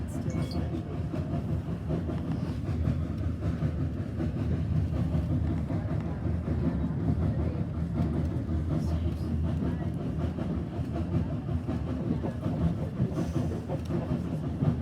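A steam locomotive runs past with a continuous rumbling, clattering roll of wheels on rails that stays at a steady, fairly loud level throughout, with no talking.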